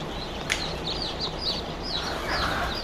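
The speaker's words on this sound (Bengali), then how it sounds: "সম্পূর্ণ দেশি মুরগির জাত হিলি।" Hili native chickens, a local breed from the Chattogram hill region, cluck at a poultry hatchery in a series of soft, short calls over a constant low background murmur.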